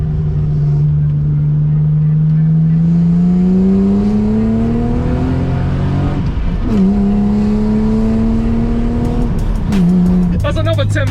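A classic BMW driven hard, its engine revving loud and close through rising gear pulls and shifts, with brief tyre noise and a voice speaking near the end.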